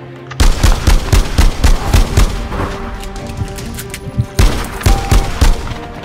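Rapid gunfire bursts in APB Reloaded riot mode, loud close volleys of automatic shots with short pauses between them, dense and continuous, with no talk over them.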